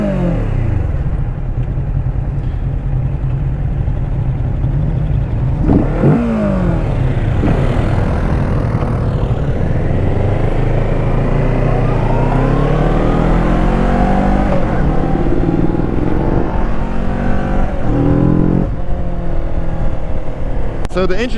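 A 2021 Kawasaki Ninja Z650 with stock exhaust runs continuously while riding, its engine rising and falling through revs and gear changes amid wind noise, with a rider talking over it.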